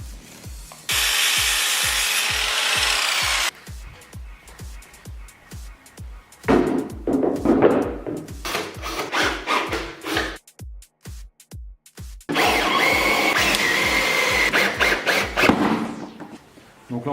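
A power saw cuts pallet wood at an angle while building a DIY pallet bar: three loud sustained cutting bursts with a whining, rubbing edge, separated by quieter gaps with knocks and handling noise.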